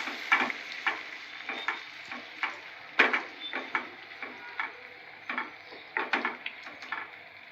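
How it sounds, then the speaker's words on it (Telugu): Eggplant and chana dal curry simmering in tomato gravy in a pan, with a soft sizzle beneath repeated close scraping and tapping strokes of a spoon stirring at an uneven rhythm. "టమాటా గ్రేవీతో బాగా మగ్గనివ్వాలి."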